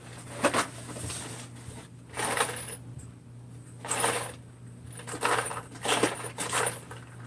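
Small metal screws shaken and clattering inside a container, in several short bursts of jangling rattles with quiet gaps between, close by over a low steady hum.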